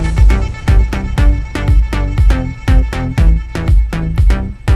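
Processed kick drum in a soca mix, equalised and compressed, hitting in a steady rhythm of punchy low thumps about twice per second, loud and upfront with other instruments layered on top.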